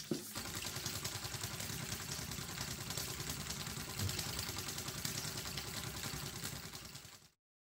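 Small model steam engine driven by a boiler made from a Moka pot, running with a continuous dense chugging and hissing rattle at steady level, then cutting off abruptly.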